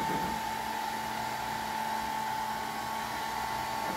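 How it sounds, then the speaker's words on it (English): A hair dryer blows steadily to melt glue, a constant airy whir with a faint hum that stays at the same level throughout. "See, just a hair dryer."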